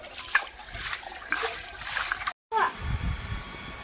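Water splashes and trickles in irregular bursts as a household water tank is filled, with one brief dropout partway and louder sloshing near the end.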